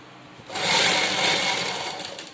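A sewing machine runs steadily while stitching piping onto fabric at a neck or armhole edge, a close, continuous whirring rattle that swells and then holds for a couple of seconds.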